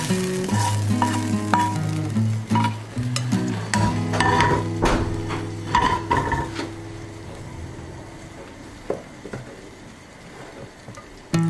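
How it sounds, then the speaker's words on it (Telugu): Hot tamarind tempering for pulihora poured over rice and stirred in: bursts of sizzling and crackling with scraping spoon-and-pot strokes, loud and close at first, then fading to sparse stirring clicks, no voices. "ఇప్పుడు మనం స్టవ్ ఆఫ్ చేసేసుకుని ఈ అన్నంలోకి ఈ తాలింపు వేసేసుకుని కలుపుకోవాలి."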